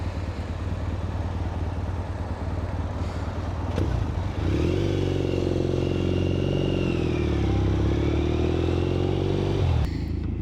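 A motorcycle rides off toward Stirling in Scotland: a steady engine rumble, then a louder rev and pulling-away drone with shifting pitch, close and continuous.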